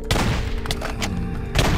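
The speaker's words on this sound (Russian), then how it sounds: "Зря я выстрелил" Gunfire in a Minecraft zombie apocalypse game: loud, close shots, a sharp report at the start and a second near the end with thuddy booms between, heard alone without talk.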